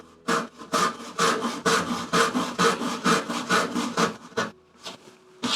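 A hand saw cuts through wood to free the cheeks of mortise-and-tenon joints for a cabinet, giving a brisk series of about a dozen even, rasping back-and-forth strokes, close and loud, with a short pause near the end.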